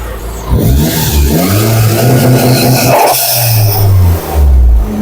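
A car engine revs repeatedly during a tune-up after idle adjustment, loud and close, with rising and falling pitch sweeps and brief drops back to idle.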